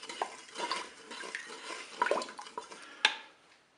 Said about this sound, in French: on va porter notre préparation à ébullition. Et on remue de temps en temps.